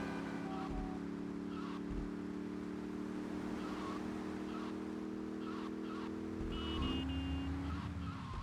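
A smoking Lamborghini Countach in GTA Vice City drives with a steady droning engine hum throughout, a few light skids and scrapes on top, and no talking.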